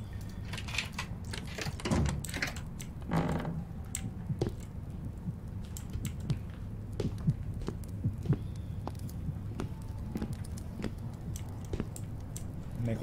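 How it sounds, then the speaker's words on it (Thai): A heart sitting in a water basin keeps beating in a horror video game, a soft muffled thumping repeating steadily under dark ambient noise for the whole stretch. "หัวใจในอ่างน้ำยังเต้นอยู่ครับ"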